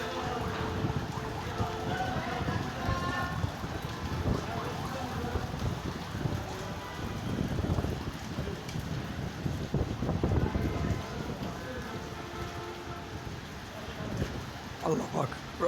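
Heavy rain and wind during a storm in Dhaka, a steady dense hiss of falling rain with gusty wind noise buffeting close by, continuous and fairly loud.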